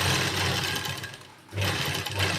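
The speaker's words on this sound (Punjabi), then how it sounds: "ਹੁਣ ਮੈਂ ਬਿਲਕੁਲ ਨਾਲ ਨਾਲ ਕਰਕੇ ਸਲਾਈ ਲਾਉਂਗੀ ਇਹਦੇ ਤੇ" A sewing machine runs close and loud, stitching lace onto the neckline of a matching suit, with a steady whirring hum that pauses briefly before starting again.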